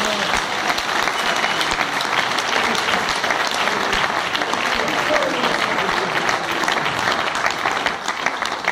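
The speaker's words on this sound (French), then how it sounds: "veux qu'aujourd'hui, vous puissiez l'honorer avec vos acclamations" A church congregation at a pastor's anniversary celebration breaks into loud, sustained applause and acclamation, continuous dense clapping mixed with shouting voices that fills the room for several seconds.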